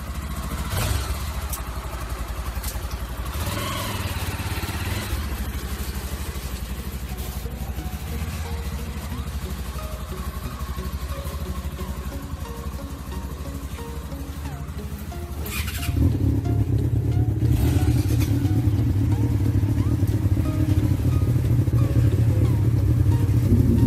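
A motorcycle engine runs steadily throughout, with a deep throaty rumble that grows louder and heavier in the second half, with some mechanical clatter.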